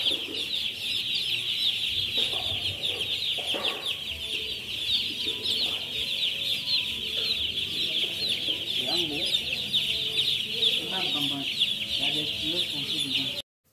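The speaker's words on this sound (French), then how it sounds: "suivez bien ces poussins" Young chicks newly placed on a poultry farm, a dense, steady high-pitched peeping that runs continuously throughout, with scattered clucks from other fowl mixed in underneath.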